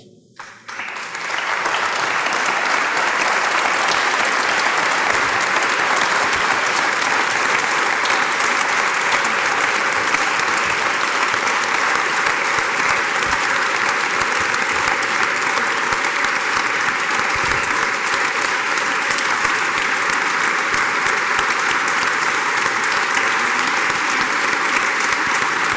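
A standing audience claps steadily and loudly for Komitas at a 2024 concert in Istanbul with Tamar Eskenian and the Lusavorich choir, a dense, even wash of applause that swells in at the start and holds for nearly half a minute.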